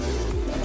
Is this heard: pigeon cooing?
yes